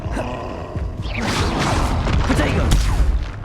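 A Confringo blasting spell explodes in Hogwarts Legacy, a dense roaring burst of booms and crackling debris that swells after the first second and stays loud amid other spell whooshes and game effects.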